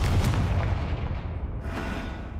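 A Confringo spell blast in the video game Hogwarts Legacy lands as a heavy, booming impact, then rolls into a rumbling decay, with a second fainter burst partway through.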